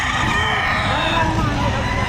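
Chickens cluck and crow amid the busy clamor of a poultry market in Batangas. The birds sound loud and close against constant background noise, and voices can be heard nearby.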